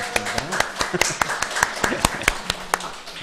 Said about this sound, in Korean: 우리 환영하는 박수 부탁드리겠습니다.